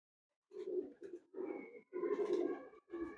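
Pigeons coo close by on a rooftop loft, a few soft throaty phrases rising and falling in short bursts with no talk over them.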